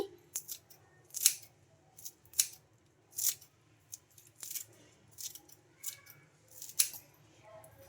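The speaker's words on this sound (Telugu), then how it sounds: "ఇంకా ఇందులోకి చిన్నగా కరివేపాకు కూడా కట్ చేస్తున్నాను" Scissors snip small pieces of curry leaves and coriander in a kitchen, giving crisp, close metallic cuts in an irregular series of about a dozen quick snips, with quiet gaps between them.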